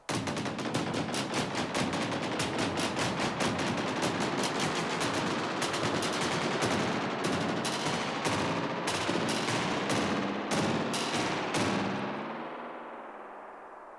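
A frequency-shifted ping-pong delay on a loop makes a dense, rapid-fire stream of bright, chattering repeats that bounce and shift in pitch, loud and continuous, then thin out and fade near the end.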